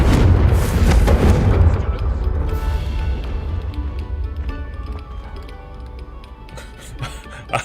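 Confringo spell blast in Hogwarts Legacy: a loud, deep booming explosion right at the start, decaying into a long rumbling tail with ticking game sounds and a small hit near the end.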